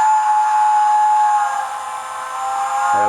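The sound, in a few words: steam whistle sound from a Hornby TTS model locomotive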